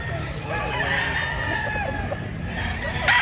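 Roosters at a busy livestock market in Mantalungon, Cebu, with repeated crowing and clucking rising over a steady crowd hubbub, the birds moderately near amid constant background noise.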